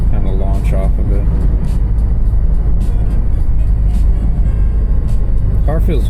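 Alfa Romeo Giulia 2.0T with a Stage 2 tune cruising on a highway, a loud continuous low engine and road rumble heard from inside the cabin while someone talks over it.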